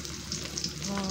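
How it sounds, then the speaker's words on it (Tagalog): Steady crackling sizzle of dried fish frying in hot oil in a pan, close and continuous for about a second. "at nagpiprito na nga tayo ng tuyo"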